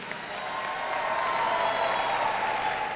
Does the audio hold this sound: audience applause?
yes